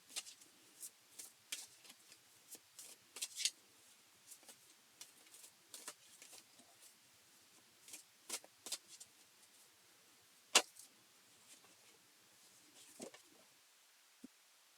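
Tarot cards being shuffled by hand during a pick-a-card reading: soft, scattered riffles and flicks at close range, faint and irregular, with a few sharper snaps standing out, and no talking.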